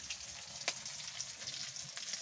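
Steady crackling sizzle of sweet potato frying in hot oil, faint and continuous, with a single sharp pop partway through.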